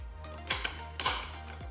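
Metal die being fitted onto a Cabela's Carnivore 3/4 HP meat grinder: a few sharp, ringing metallic clinks and clanks close by, spaced over under two seconds, with no talking.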